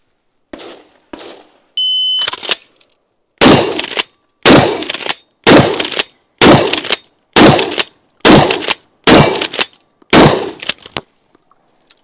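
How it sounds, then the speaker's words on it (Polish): Eight loud shots from a Franchi SPAS-12 shotgun ring out at a steady pace of about one per second, each sharp blast trailing a short echo, preceded by a few quieter clicks and a brief electronic tone. "8 strzałów, czyli jednak wchodzi 8"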